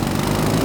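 A BMW R18 Bobber 100th Anniversary Edition motorcycle runs on the road with a loud, steady engine drone, heard close and continuous for a short moment.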